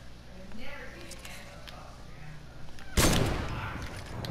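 In the video game Solid Gold, one loud gunshot blast sounds near the end after a stretch of quieter game noise, with players talking over it.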